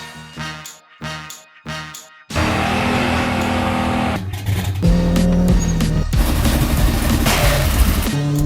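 A Chevy Cruze with a 1.8 turbo engine is heard first in short bursts, then in a loud, sustained engine roar that climbs through shifts and stays close and strong, with no voices.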